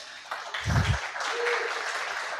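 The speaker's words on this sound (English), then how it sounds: "Save your applause for the project" Audience applause at a tech demo day for AI software and data science projects, a scattered, moderately loud clapping that builds over a couple of seconds with a brief low thump near the start.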